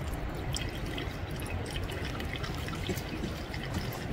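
Water seeps and trickles slowly through a filter medium in a squeezed plastic bottle outdoors in the cold, a soft continuous wet patter of drips with no voices.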